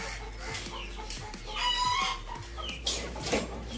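Chickens clucking on a chicken farm with a rooster crowing among them, a busy mix of nearby clucks and squawks over a low steady hum, with a longer crow rising partway through.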